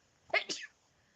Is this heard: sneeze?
yes